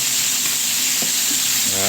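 Chicken sizzles steadily in a hot pan, a dense crackling hiss with occasional soft stirring clinks, close and continuous.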